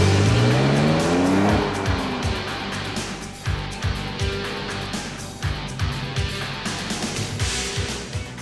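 A Mitsubishi 3000GT sports car is driven hard at high speed: the engine roars loudly and its pitch falls as gears change, then a steady drone continues, broken by repeated short tire squeals and bumps.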